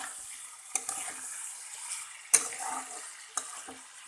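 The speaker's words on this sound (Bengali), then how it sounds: "দেখুন এটা আমি ভালো করে কষিয়ে নেব" Bhola fish curry with drumsticks and potatoes being sautéed, a soft steady sizzle with a few sharp scraping clinks of a spoon against the pan, close and fairly quiet.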